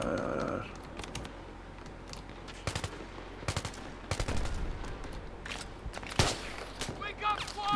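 Gunfire from a Battlefield 3 beta multiplayer match on PC: scattered bursts and sharp single shots of varying loudness over about eight seconds, mixed with some talking and background game noise.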